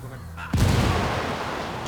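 A frag grenade goes off in the Ghost Recon Wildlands video game, one sudden loud, close blast followed by a long rumbling decay, with no talk.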